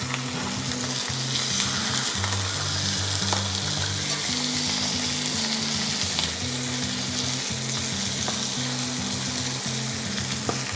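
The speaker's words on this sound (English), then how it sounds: "That's a sizzle you want to look for." Chicken skin sizzles in a hot oiled pan for a lemon and pepper chicken dish, a loud continuous close frying hiss that holds steady throughout, with no talking.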